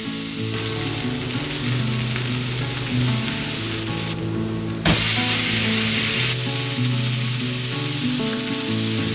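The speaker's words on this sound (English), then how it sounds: "Cooking ground beef with rice." Ground beef sizzles in a pan as it fries with rice, a steady close crackle running under background music, with a sharper burst of spray near the middle.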